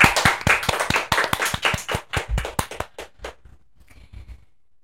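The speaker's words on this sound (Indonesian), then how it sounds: "Tepuk tangan dulu dong" An audience claps for a guest singer on an Indonesian podcast, a burst of bright, irregular handclaps that starts loud and thins out to a few scattered claps before fading to near silence.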